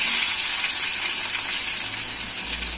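Onion, curry leaves and garlic fry in hot oil, giving off a steady, close sizzling hiss with faint stirring sounds underneath and no one talking.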